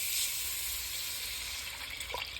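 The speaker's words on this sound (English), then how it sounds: "And then just start putting your water in." Water or beef broth poured into a pan of roast beef, a steady close pouring and sizzling hiss that thins out toward the end with a few small splashes.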